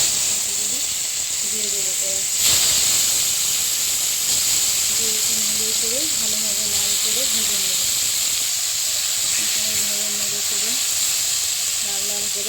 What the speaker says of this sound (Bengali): এবার ছাতুগুলি ভেজে নেব